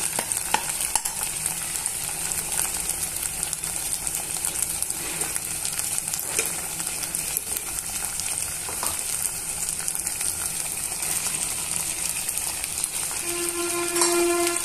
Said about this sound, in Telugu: సన్నగా తరిగిన టొమాటో ముక్కల్ని యాడ్ చేసుకొని ఇవన్నీ బాగా మిక్స్ చేసుకొని